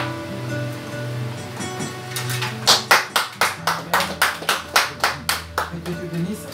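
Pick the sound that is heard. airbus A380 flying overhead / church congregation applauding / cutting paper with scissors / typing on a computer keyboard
church congregation applauding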